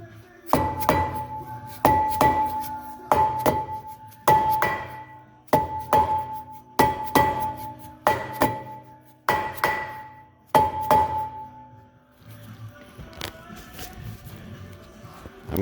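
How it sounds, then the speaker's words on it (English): A dead blow hammer strikes the brake rotor on a 2019 Jeep Grand Cherokee in a series of about nine heavy metallic smacks at roughly one-second intervals, each hit ringing briefly, followed by quieter shop noise. "what I'm going to do is go ahead and smack it with a dead blow hammer"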